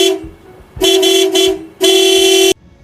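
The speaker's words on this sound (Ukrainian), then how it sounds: "Коли ви почуєте, як сигналить автомобіль," A car horn honks three times up close, two short toots followed by a longer blast, with quiet pauses in between.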